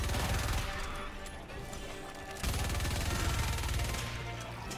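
An auto turret in the video game Starhawk fires in continuous rapid automatic bursts, dense and sustained with a brief dip midway, heard from close range amid battle noise.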